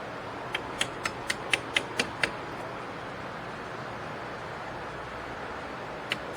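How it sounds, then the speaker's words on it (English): A quick series of about eight sharp metallic taps as brake caliper pins are hammered through on a Dodge Charger Scat Pack, evenly spaced, then a pause and two more taps, fairly faint against background noise. "Knock your pins all the way through."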